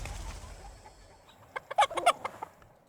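A chicken in the Book of Hours game clucks in a quick cluster of short, sharp calls near the end, after a quiet stretch of faint low rumble.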